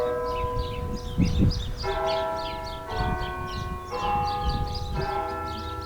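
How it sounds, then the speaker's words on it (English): Church bells ring at Mission San Jose in San Antonio, a restored Spanish mission, with several bells striking in a steady repeating peal, loud and resonant with lingering overtones. "Love those bells"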